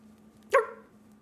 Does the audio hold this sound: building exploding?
no